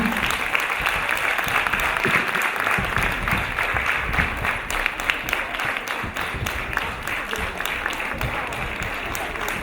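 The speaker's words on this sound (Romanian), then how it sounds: "Aplauze pentru cei doi soltiști." Steady, sustained audience applause at a folk music concert, honoring two soloists; dense clapping fills the whole stretch at an even level with no break.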